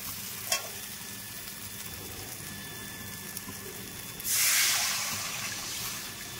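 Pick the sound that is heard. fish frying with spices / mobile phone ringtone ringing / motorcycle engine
fish frying with spices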